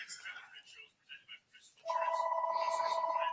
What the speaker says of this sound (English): And now the phone is ringing.